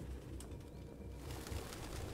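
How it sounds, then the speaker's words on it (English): Soft, steady low cooing of pigeons in the Detroit: Become Human video game, faint and continuous with no voices over it. "No human could live with all these fucking pigeons."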